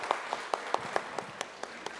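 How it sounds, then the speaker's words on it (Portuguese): Audience applause at a literary festival in Araxá, heard as sparse, slow, evenly spaced claps from a few people, fairly faint and alone. "uma salva de palmas para a senhora Jéssica Norato"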